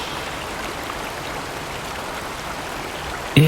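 A stream runs steadily over stones, a constant soft rushing wash with no breaks, heard alone and at an even, moderate level.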